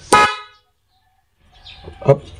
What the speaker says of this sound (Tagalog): So pindutin natin, dapat stock horn.